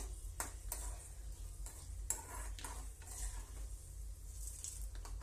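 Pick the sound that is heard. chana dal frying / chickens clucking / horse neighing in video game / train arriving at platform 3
chana dal frying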